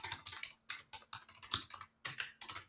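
Fast typing on a computer keyboard comes as bursts of close, crisp key clicks, with brief pauses between the runs of keystrokes.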